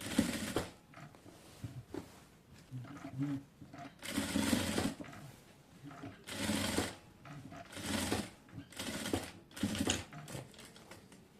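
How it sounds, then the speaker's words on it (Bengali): A sewing machine stitches lace onto a dress neckline, running in five or six loud bursts of rapid whirring with short quiet pauses between them, close by and with no talk. "এই পাশ দিয়ে হচ্ছে একটি সেলাই করে নিতে হবে তাহলে হচ্ছে লেসটি আর উঠে যাবে না"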